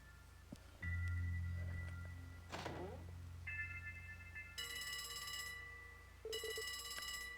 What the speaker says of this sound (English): The phone's bell.